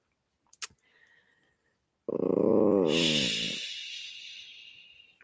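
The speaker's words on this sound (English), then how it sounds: "Karma, who decided that she will bark and bark" A dog lets out a loud, close growling bark that rises into a harsh snarl, following a couple of faint clicks, then fades into a breathy tail.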